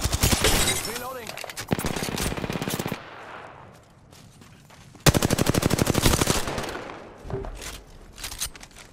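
Rapid automatic gunfire in the video game Apex Legends, two long loud bursts separated by a brief lull, then a few scattered shots and softer game noises.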